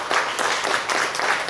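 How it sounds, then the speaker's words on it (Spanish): Short burst of audience applause at a bilingual education gathering, dense clapping heard steadily and without talk. "fuerte aplauso hermano Mino"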